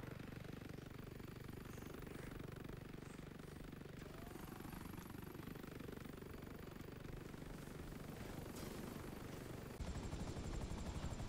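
A helicopter flies in a video game, its dense, continuous rotor chop and engine roar filling the scene at a steady level, growing slightly louder and harsher in the final second.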